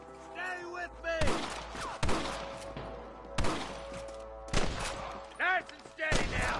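Loud single gunshots crack out one after another at steady intervals in a Red Dead Redemption shootout, with shouted voices in between.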